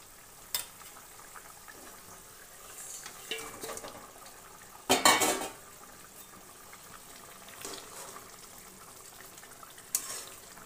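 Fish pieces drop into a pan of boiling curry broth for a Bengali bata fish jhol, giving a brief loud splash and sizzle burst in the middle, with faint bubbling and small clinks before and after.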